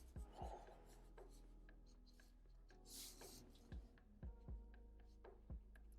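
Pencil strokes on paper while sketching a cartoon hand and knuckles: soft, quiet scratching with short taps and scrapes in an irregular rhythm, close and faint.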